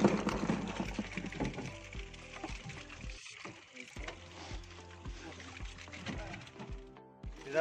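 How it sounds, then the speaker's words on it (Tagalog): Water is poured into a container holding freshly caught crabs on a boat, giving a sloshing, trickling pour with scattered knocks and clatter. Speech is heard faintly at times. "Ilalagyan na po niya ng tubig para hindi po mamatay yung alimasag."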